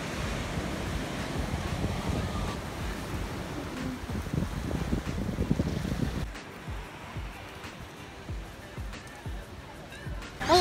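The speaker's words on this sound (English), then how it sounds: "so it's super windy, so I'm not sure if we can fly the drone" Strong wind buffeting the microphone at an Australian beach, heavy rumbling gusts with surf roaring behind, easing noticeably partway through before picking up again at the end.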